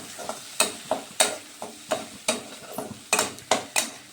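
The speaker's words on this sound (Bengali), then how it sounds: "এখন এই মশলাগুলোকে একটু কষিয়ে নেব" Spoon stirring and scraping masala with tomato frying in a karahi for Bengali tel koi fish curry, a steady rhythm of sharp strokes about three per second over a soft sizzle, close and with no talking.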